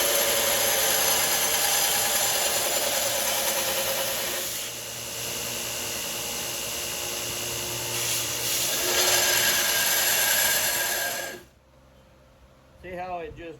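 An old, worn 60 grit belt on a belt grinder grinds a knife blade with a loud, steady abrasive roar for about eleven seconds, easing slightly midway, then cutting off abruptly into near quiet.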